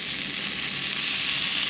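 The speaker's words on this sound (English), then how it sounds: "And then we'll throw it in the frying pan." Food frying in a frying pan makes a dense, steady sizzle and crackle at close range, constant and fairly loud throughout with no voices.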